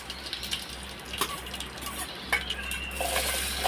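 Tempering spices, mustard seeds and cumin, crackle in hot oil for a bitter gourd curry, giving a steady close sizzle with occasional clinks of a spoon against the pan and no talking.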